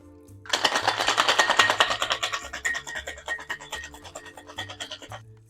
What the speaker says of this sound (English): Add some ice. And shake for about 12 to 15 seconds.